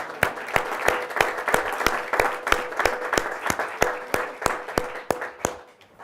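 An audience claps steadily to welcome family members at a farewell gathering, a dense wash of applause punctuated by sharp, rhythmic individual claps that fades toward the end.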